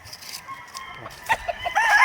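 White Kelso gamecock rooster at a game farm, giving a few short, fairly soft clucks and calls in the second half against quiet background.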